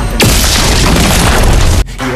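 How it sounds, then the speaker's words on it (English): A turret destroyed in the Mobile Legends game, a loud booming explosion that bursts out and roars steadily for under two seconds before cutting off abruptly. "Our turret has been destroyed."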